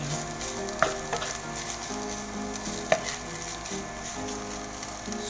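Shredded chicken pastil filling frying in a pan gives a constant close sizzle, while a spatula stirs it with a couple of clear scrapes and knocks, and no one talks.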